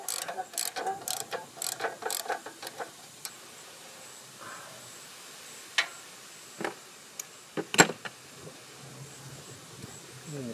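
Ratchet working a back bolt on a Honda GX390 small engine during an on/off switch replacement, heard as quiet bursts of rapid clicking and a few sharper metallic clacks, close by and fairly faint.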